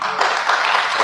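Audience at a candidates night forum breaking into applause, a dense steady wash of clapping lasting the full second, fairly loud with no clear talk over it.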